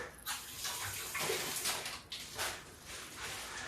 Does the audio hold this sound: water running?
yes